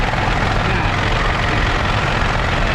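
Steady, loud mechanical drone with a low rumble and broadband rattle, like a car clutch whirring continuously for a few seconds with no talking.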